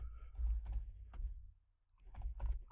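Quiet, close typing on a computer keyboard: a short burst of quick key clicks, a brief pause, then a few more taps.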